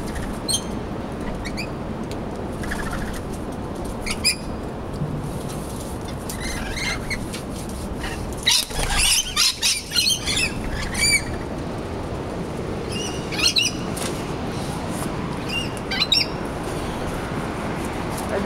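Parrots squawk and chirp in bursts around a feeding spot at Belvedere Berzasca, with a steady background hum and a louder cluster of calls and possible wing flaps midway, no talking.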